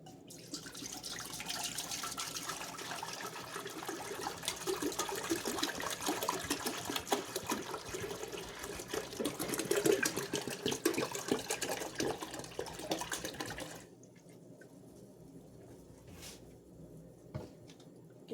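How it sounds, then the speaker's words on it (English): Apple juice pours steadily into a stock pot in a continuous liquid rush for about fourteen seconds, then stops, leaving faint kitchen room noise. "we're going to get our juice into the stock pot"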